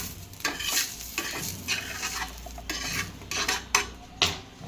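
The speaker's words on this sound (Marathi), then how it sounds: "2-5 मिनिटे तव्यावर हे लसूण मिरच्या आलं राहू देऊया" Garlic, green chillies and ginger roasting on a hot griddle, with soft sizzling and repeated scraping and stirring strokes of a spatula against the metal, close and fairly quiet, no voices.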